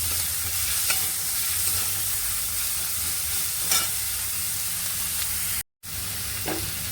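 Ginger-garlic paste fries with chopped onion in a hot pan, a steady loud sizzle with faint stirring scrapes and a brief cut to silence near the end.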